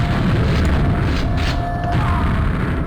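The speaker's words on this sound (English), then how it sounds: "that is the pulse cannon there for your visual eyes" A pulse cannon fires in a video game, a deep rumbling boom that rolls on with a dense low roar and faint mechanical whines.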